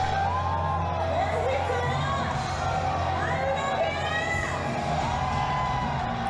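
A concert crowd at an overseas show in Mexico cheers and shouts continuously, loud and dense, with rising whoops and high yells cutting over a steady roar.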